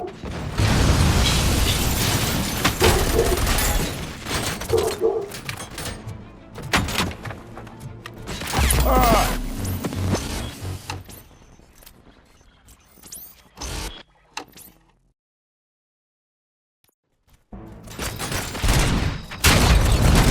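Gunfire and explosions from the Robocop Rogue City video game crackle in loud, dense bursts with booms and mechanical clanks, then thin to scattered shots and a brief near-silence before the clamor returns.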